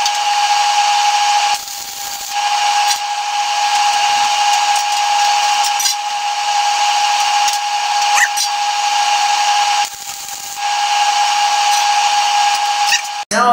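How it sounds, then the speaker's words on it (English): A flux core welder tack welds metal while fabricating a trailer-mounted radar device, giving a loud, steady, close buzzing hiss that runs almost without pause, with a few short breaks and crackles. "I'm going to put a tack right here so I can hinge it."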